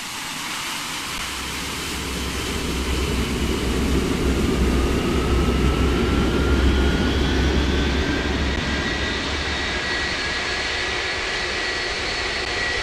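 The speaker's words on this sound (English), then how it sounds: "We're going to start. Engine 1, Engine 2." Boeing 757 jet engines spool up in the flight simulator game Project Flight, a low roar building steadily with a rising whine that climbs in pitch and holds loud, with no talk over it.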